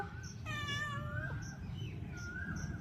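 A cat perched at a house window lets out a clear meow lasting nearly a second, followed by a fainter, shorter call, close by in a quiet room.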